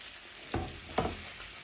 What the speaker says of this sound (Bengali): এই মাছগুলা ভাজা ভাজা হোক,